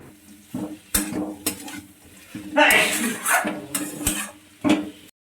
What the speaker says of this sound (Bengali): ধনেপাতাটা দেওয়ার পর কিছুটা নাড়াচাড়া করে নিয়ে